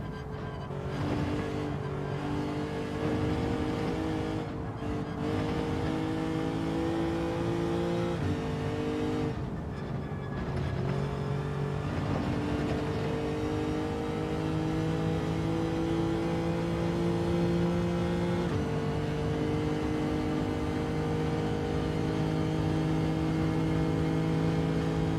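Car engine in Gran Turismo 7 revving up through the gears, rising whine repeatedly dropping at each shift then climbing again, loud and sustained with no talking.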